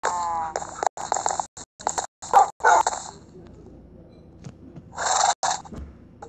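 Dogs in the video game Minecraft give a series of short, choppy barks and yips in quick bursts with brief silences between them, fairly close and loud.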